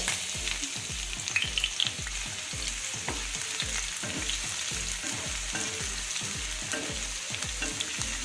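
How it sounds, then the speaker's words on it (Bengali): Finely chopped onion fries in hot oil tempered with spices, a steady close sizzle with rhythmic scraping strokes of a spoon in the pan, continuous and without speech. "এবার এই পেঁয়াজটাকে আমি এক মিনিট মতো হালকা ভেজে নেব"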